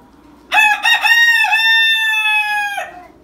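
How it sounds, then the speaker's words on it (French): A seven-month-old purebred rooster crows once in a breeding pen, a loud, close, full cock-a-doodle-doo lasting over two seconds with a stuttering start and a long held final note, with no talk over it. "Et le coq a 7 mois."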